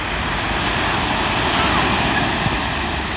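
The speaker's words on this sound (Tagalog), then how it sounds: "Ang lakas ng alon guys, yung current." A steady, dense roar of strong ocean waves and surf at a beach near Helicopter Island, El Nido, Palawan, with wind buffeting the microphone, continuous and loud throughout.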